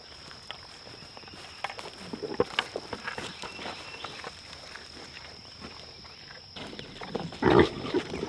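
Pigs grunt intermittently in a quiet, misty outdoor setting, with a louder snorting burst near the end and faint rustling throughout.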